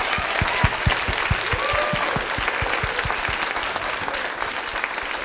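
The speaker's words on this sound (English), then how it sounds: "Quick round of applause for everyone." Loud, close applause from a school music event audience, with hand claps pattering in a quick, fairly regular rhythm that blends into a dense, sustained clatter.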